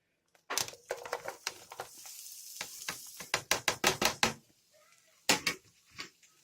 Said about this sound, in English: now that the oil's nice and hot, I'm going to throw my vegetables right in